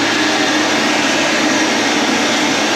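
A hand dryer blasts steadily inside the cramped toilet of a V/Line train, a loud, close, continuous broadband whoosh that holds at an even level throughout without breaks, with no talking over it.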